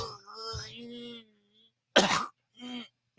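A man coughs harshly twice after a drawn-out, strained vocal sound, each cough a short, loud burst close to the microphone.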